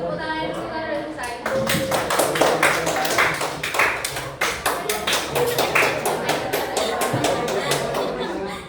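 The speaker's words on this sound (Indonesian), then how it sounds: "boleh kasih tepuk tangan dulu karena udah selesai." A classroom of ninth-grade students applauds a presenting group, sharp rapid claps starting after a brief pause and continuing several seconds with voices chattering underneath, close and lively.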